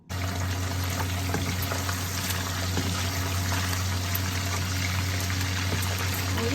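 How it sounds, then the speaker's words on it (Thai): Bacon frying in a pan, a steady dense sizzle with a constant low hum underneath, holding at an even level throughout with no talking. "กำลังทอดเบคอนอยู่นี่"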